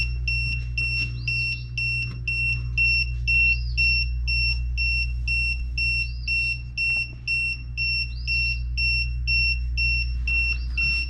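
A TST tire pressure monitor sounds its alarm after a sensor is pulled off the valve stem: repeated high double beeps in regular bursts, clear and close, over a steady low engine hum.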